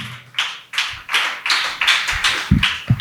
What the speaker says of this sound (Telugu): అందరూ చప్పట్లు కొట్టి దేవుని నామానికి అనబరుద్దాం